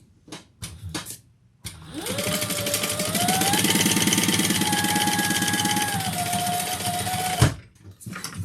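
Sewing machine stitching a slip pocket onto a backpack, a steady rapid mechanical run of about five and a half seconds with a rising whine, bracketed by brief handling knocks before and after.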